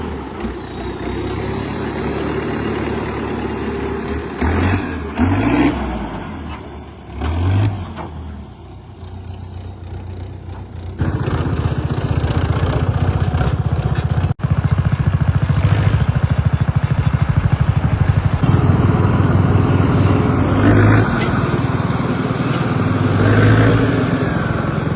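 Sonalika RX 60 tractor with its diesel engine running while pulling a cart, a loud rumbling drone that swells and revs unevenly, with a brief lull before settling into a heavier, steady roar.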